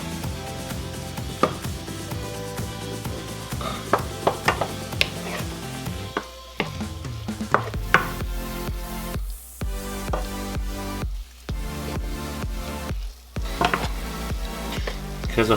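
Fajita vegetables and chicken sizzling in a skillet as they're stirred, with steady frying hiss and frequent clinks and scrapes of a utensil against the pan, close and busy, no talking.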